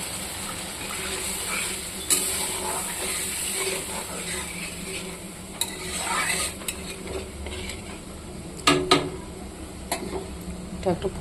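Water hits fried spice masala in a pan for a Bengali fish curry, a hissing sizzle with clinks and scrapes of a spoon against the pan, close and steady with a few sharp knocks.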